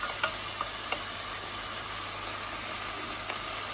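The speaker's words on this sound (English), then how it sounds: "sizzle it around for a bit" Onions and bacon sizzle steadily in a pan under a constant bright hiss, with a few light clicks of stirring scattered through, no voices.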